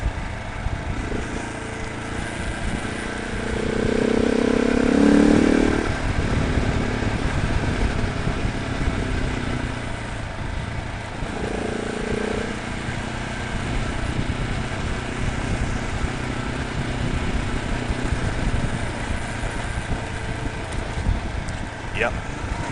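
A Husky 701 motorcycle riding over rocky ground in southwest Colorado, its engine droning steadily with a surge of throttle early on, wind and rumble throughout as a rider talks intermittently over it.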